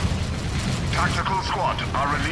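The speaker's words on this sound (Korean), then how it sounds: "이게 수류탄이 무난하게 피해 주고요 자 수류탄 수류탄" Grenade explosions in the Dawn of War 3 video game, booming and rumbling bursts layered under excited commentary, with crackling debris following the blasts.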